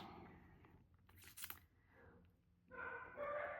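Several dogs bark indoors in short bursts, moderately loud and somewhat distant, with a burst around the middle and a louder stretch near the end; faint household background between.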